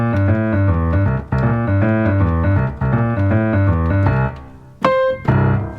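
Electric bass playing a self-composed blues bassline, loud and close, with a steady bouncing rhythm of repeated low notes and a brief pause near the end, no voice.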